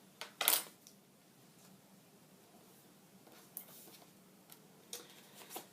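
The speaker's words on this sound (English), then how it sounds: "I'm going to trim my photo just a little bit." A photo being trimmed for a scrapbook page: one sharp, brief cutting snap near the start, then a few faint, scattered ticks and light handling clicks in an otherwise quiet room.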